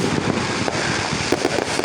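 Fourth of July fireworks go off nearby as a dense crackling rumble, loud and continuous with scattered sharp pops over wind noise.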